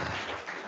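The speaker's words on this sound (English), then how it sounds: "please join me in giving a round of applause to all of our panelists" Brief applause from a symposium audience for a panel of speakers, a short dense wash of clapping at moderate level.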